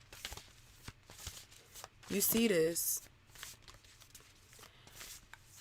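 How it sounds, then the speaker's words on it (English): Tarot cards being shuffled by hand with soft riffling patter under a speaking voice, while a brief louder burst of a higher voice cuts in partway through. "I'm not even looking at the cards while I'm shuffling"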